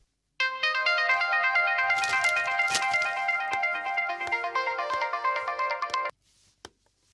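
A phone ringtone for an incoming call plays a bright, repeating melodic tune, loud and close, for about six seconds before cutting off, followed by a faint click and near silence.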